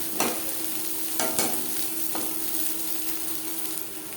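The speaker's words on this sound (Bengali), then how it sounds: "তিন মিনিট মিডিয়াম ফ্লেমে আলুর সাথে ব্রাহ্মী শাক ভেজে নেব" Brahmi greens and potato frying in a pan over a medium flame, a steady close sizzle with a few sharp stirring scrapes near the start, no voices.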